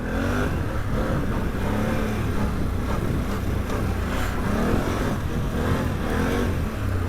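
A 2021 Can-Am Outlander 850 XMR ATV engine revs hard and continuously under throttle, loud and close, with a rising and falling engine tone that stays steady throughout and no speech.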